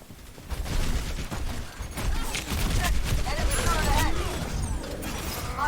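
Rapid turret gunfire in a competitive Overwatch match, a dense burst of repeated shots with clattering impacts and game noise running for several seconds.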